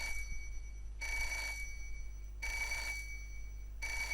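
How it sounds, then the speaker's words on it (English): A phone rings in the video game Parasite Eve 2, three evenly spaced electronic bursts with short pauses between, over a low steady hum, no talking. "I hate ringing noises. Somebody changed the ringtone."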